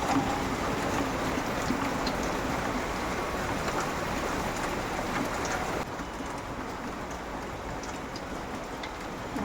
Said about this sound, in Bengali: প্রচুর বৃষ্টি হচ্ছে আমাদের এদিকে